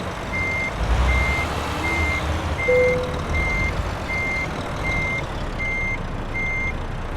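A Volvo truck backing into a parking spot in Euro Truck Simulator 2 sounds a steady series of evenly spaced reversing beeps over a loud idling diesel rumble, with one brief lower tone midway.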